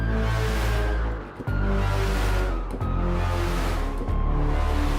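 Massive, dense cinematic braams from the Symphonic Destruction orchestral library, three long sustained blasts with heavy low rumble and bright upper texture, loud and alone.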